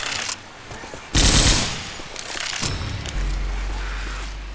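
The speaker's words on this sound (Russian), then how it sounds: "Тут здоровая пушка. Пулемет." A heavy mounted machine gun in the video game Left 4 Dead 2 roars in a loud sustained burst, followed by a lingering rumble and a low mechanical drone.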